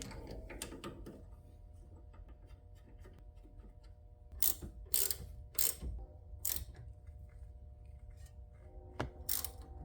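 A U-bolt style tool clicking and ratcheting as a tie rod is loosened on a 2011-2019 Ford Explorer, with sparse mechanical clicks and sharper metallic clacks near the middle and end, fairly quiet overall.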